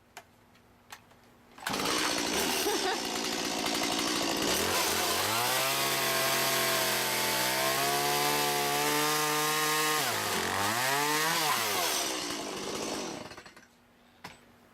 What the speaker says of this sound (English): now you can see how he uses this cute little chainsaw